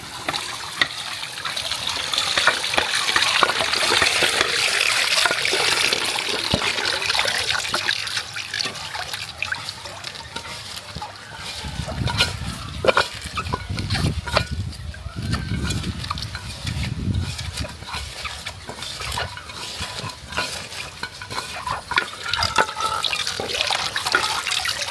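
Bitter leaf being washed under running water in a kitchen, with a steady splashing trickle and gush, joined midway by louder low sloshing and rubbing as the leaves are handled.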